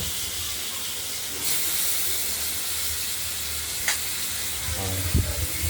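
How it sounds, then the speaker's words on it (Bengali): Cut potatoes frying in a pan for a rohu fish curry, a steady hissing sizzle with a couple of stirring knocks and a low clatter near the end, no one speaking. "এই কেটে রাখা আলুগুলোকে ভেজে নেব হালকা হলুদ করে ভেজে নেব"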